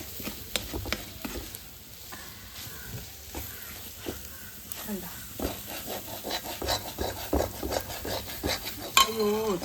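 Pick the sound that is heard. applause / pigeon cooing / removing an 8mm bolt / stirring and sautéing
stirring and sautéing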